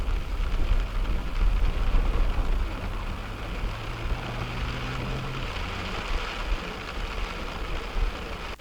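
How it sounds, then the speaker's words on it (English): Steady rain falls during an evening drive on a county road between Animas Forks and Silverton, Colorado, a dense continuous hiss with a low rumble underneath, fairly loud and close, no voices. "Like that rain might be picking up just a little bit."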